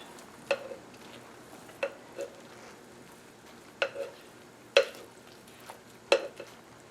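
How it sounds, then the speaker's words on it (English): Cornbread batter with flour being stirred in a skillet: a faint soft background hum broken by sparse, sharp spoon knocks and scrapes at irregular intervals. "stirring it once more to make sure all the flour is incorporated"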